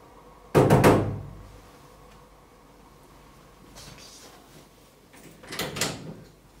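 Someone knocks on a door: a loud cluster of raps, a long quiet gap with a faint tap, then a second, softer cluster of knocks.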